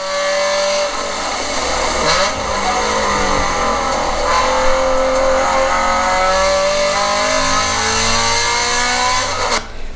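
A Scion FR-S accelerates hard on a race track, its engine note climbing steadily through the gears, loud and close with continuous tire and road roar and no talk.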